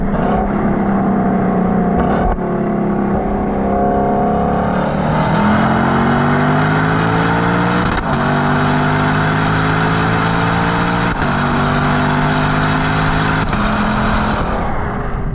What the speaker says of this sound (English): starts with a deep growl and then gets a bit more like a yell as the revs climb, and then it's a bit more of a scream really high in the RPM